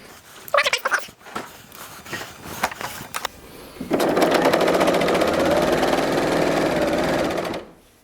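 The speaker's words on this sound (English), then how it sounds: "I'm going to go ahead and serge those on" A serger stitches pockets onto a dress from a Butterick 4685 pattern: after a few brief clicks and handling taps, a steady loud whirring run lasts about four seconds close by, then stops abruptly.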